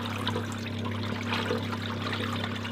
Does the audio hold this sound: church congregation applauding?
no